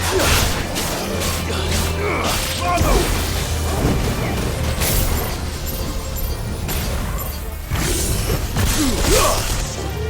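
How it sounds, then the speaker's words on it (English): Booms and crashing blasts from Final Fantasy XVI gameplay roll through a dense, loud mix of whooshes and mechanical clatter, with a voice speaking over the action. "Explosion!"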